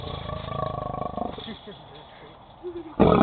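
A lion roars in a long pulsing rumble for about a second and a half, then lets out lower grunts before a sudden loud burst at the end; a person speaks nearby.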